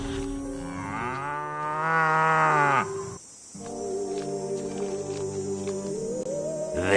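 A cow from the video game Destroy All Humans lets out a loud, drawn-out moo, then after a brief pause a second long, lowing moo follows, both close and clear with no talk over them.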